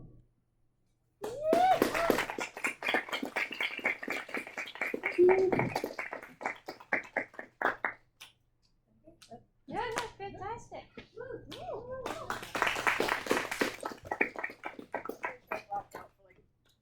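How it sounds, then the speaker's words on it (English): A small audience claps after a live reading of a short horror story, with bursts of rapid, crisp hand claps separated by pauses, and people talk briefly between the rounds of applause. "She needs more clapping."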